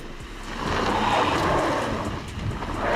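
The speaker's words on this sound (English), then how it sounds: "The unloaded wheels are still helplessly skidding, raising clouds of dust" A Volvo XC70's unloaded wheels spin and skid on dirt, kicking up dust, heard as a rough, rushing drone with engine strain that swells midway, dips briefly and rises again.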